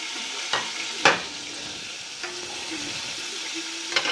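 Browned sausages sizzle in olive oil with hot pepper in a large restaurant-size pan, a constant close frying hiss broken by a few clattering stirs and utensil knocks, with no voices.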